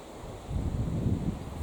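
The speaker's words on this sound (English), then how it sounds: "it's getting really windy" Wind gusts across an outdoor kitchen garden, a low rushing buffet that swells after a quiet moment and rumbles into the microphone, with no one talking.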